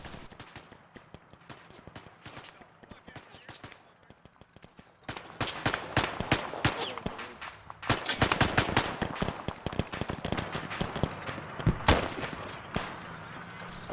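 Musket volleys from a firing line in a D-Day themed battle game: dense, crackling gunfire, scattered at first, then erupting into heavy, rapid overlapping shots that stay loud and continuous.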